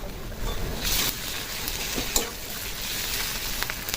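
Ginger and garlic paste with cumin paste and spices frying in a pan for mutton curry, a steady close sizzle with a few brief stirring scrapes and no talking.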